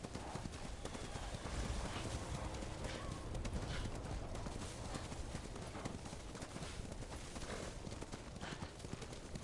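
A completely black horse clip-clops through white snow in the Ghost of Tsushima video game, a steady run of soft hoofbeats continuing throughout under faint ambient game sound, with no talk.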